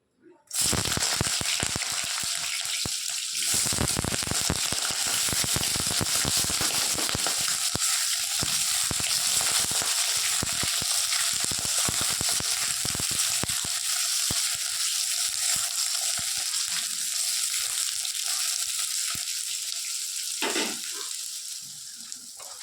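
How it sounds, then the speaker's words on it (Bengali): Eggplant pieces fry in hot oil in a wok, a dense, loud, continuous sizzle and crackle lasting throughout, easing slightly toward the end. "তো আগে না এই বেগুনগুলো একটু ভেজে নিই।"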